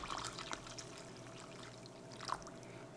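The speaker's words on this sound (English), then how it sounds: "Pour in some vinegar." Vinegar trickles and splashes softly into a container of artichokes, with a couple of brief louder glugs, quiet and close.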